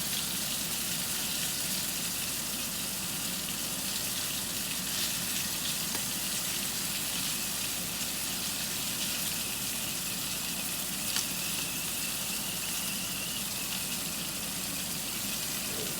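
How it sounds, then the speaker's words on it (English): Southwest chicken frying in hot oil, a steady, faint hiss of bubbling grease that holds evenly throughout with no talking. "you can see right here in the corner how it's bubbling. That is still frying it up. The oil's still nice and hot."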